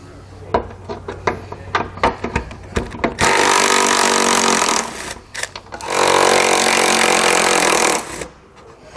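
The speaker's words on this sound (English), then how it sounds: "we're going to take a 1/2-inch socket. We're going to remove the 4 bolts on each side, holding our spare tire holder in place." A power tool with a 1/2-inch socket backs out the bolts holding the spare tire holder on a 2009 Jeep Wrangler. Scattered clicks and handling knocks lead into two loud, sustained whirring bursts, each lasting a second or two.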